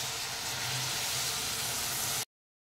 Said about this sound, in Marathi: मी आता फोडणीमध्ये गरम पाणी घालत आहे